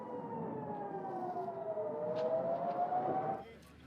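Civil defense sirens wail over northern Israel during a rocket barrage from Lebanon, a distant rising and falling tone sustained for over three seconds before cutting off.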